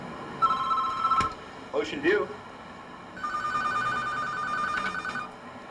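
A telephone rings twice in Los Angeles, 1991, each ring a steady, close electronic trill lasting about a second. Voices speak briefly in the gap between the rings.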